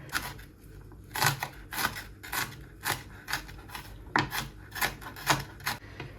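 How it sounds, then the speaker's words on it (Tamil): A knife chops an onion into small pieces on a board, a brisk series of a dozen or so sharp, close cuts in an uneven rhythm with no talking. "ஒரு வெங்காயம் எடுத்து சின்னதாக கட் பண்ணுவோம்"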